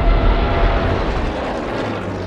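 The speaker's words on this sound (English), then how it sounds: "his remaining 123 working bomber planes launch a series of raids on Grozny" Heavy, continuous engine drone of WWII bomber planes flying on a bombing raid over Grozny, a dense low roar that stays loud and steady throughout with no voices.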